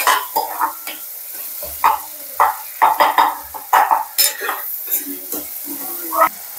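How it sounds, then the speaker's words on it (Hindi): Eggplant and onion masala stirred in a hot pan, with repeated scraping strokes of a spoon over a steady low sizzle, close and moderately loud, in uneven bursts. "इसको अच्छे से मिक्स कर लेंगे और अच्छे से भूनने देंगे"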